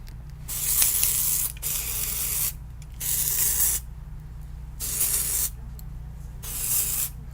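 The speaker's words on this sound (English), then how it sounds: "just start spraying it in" Long hissing bursts from an aerosol hair spray can sprayed onto a wig, repeated several times with short gaps, close and steady over a low background hum.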